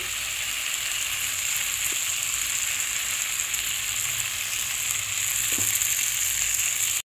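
Kashmiri red chilli powder, turmeric and salt sautéing in a pan with a little water, a dense continuous sizzle close up, with a couple of faint stirring clicks.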